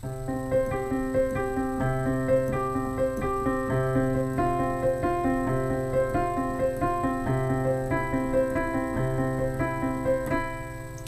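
Piano chords from a song played slowly and evenly, sustained notes changing in a steady rhythm, clear and close with no talking.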